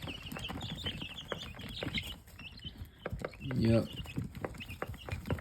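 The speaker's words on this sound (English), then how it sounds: "We got chickens, y'all." Backyard chickens clucking and murmuring close by, with a brief louder squawk midway, while a person speaks a word over the scratchy background.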